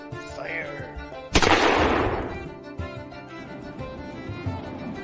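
A pirate battle with a sharp cannon blast and gunfire bursting in, then rumbling and decaying, with shouting voices and music before and after.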